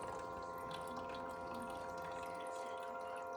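Water runs steadily from a kitchen tap in a continuous, even stream, fairly quiet and unbroken, with a faint tonal hum beneath the flow and no voices.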